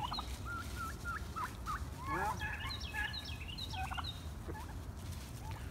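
Several turkeys gobble and warble in overlapping bursts over a low rumbling background, moderately close.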